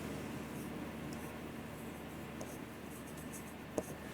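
A teacher writes a number sequence on a board for a Class 9 maths lesson, with soft, continuous scratching of the marker or chalk close by over steady room noise and a small tap near the end.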